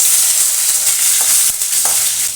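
A tomato hits hot mustard oil with whole cumin, dried red chili and bay leaf, giving a loud, steady sizzle with scraping stirring strokes, close and continuous with no talking.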